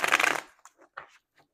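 Tarot cards are shuffled in a short, close riffle burst, followed by a few soft taps and rustles as the deck settles.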